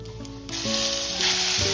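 Curry leaves hitting hot oil in a kadai for tempering, a loud sudden sizzle that flares up and keeps crackling steadily under background music, with no talking.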